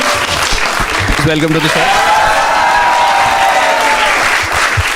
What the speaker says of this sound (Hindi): Start clapping for the 3 contestants for today.